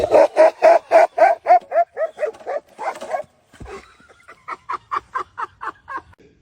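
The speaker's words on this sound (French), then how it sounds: "Voici un petit chien qui imite le comportement du vieux père." A small dog barks in quick repeated bursts, loud and close, pausing briefly before another rapid run of higher yips.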